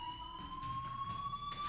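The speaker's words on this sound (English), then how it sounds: "Hey, do you hear that fire alarm?" A school fire alarm in the video game Life is Strange rings as a steady, high electronic tone, a continuous beeping-buzzer pitch held alone at moderate level.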